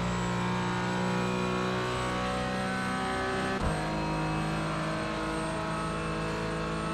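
Race car engine from a BMW competing in a GT4 race on the Nordschleife, a steady loud drone of engine noise with a brief shift or bump midway, no talking.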